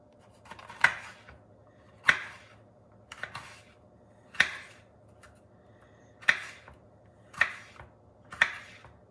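A knife chops vegetables for a bell pepper and onion relish. About seven crisp, separate chops land on a board roughly a second apart, close and clear over a quiet background.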